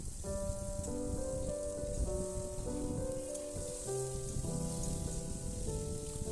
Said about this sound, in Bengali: আলুটা তেলের মধ্যে দিয়ে আমি ভালো করে ভাজা ভাজা করতে থাকবো।